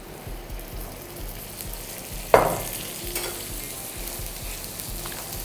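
Oil poured over chicken kari parotta on a hot pan sets off a sudden sharp sizzle burst, which flares briefly and settles into a steady low frying hiss under light scraping, close and alone.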